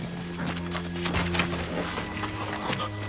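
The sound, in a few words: horse hooves clip-clopping in a western film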